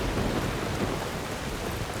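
Heavy rain pours down steadily in a Skyrim game world, a dense, continuous wash of drops with a low thunder rumble blended underneath, loud and unbroken throughout.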